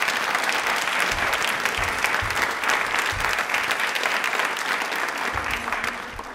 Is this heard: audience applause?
yes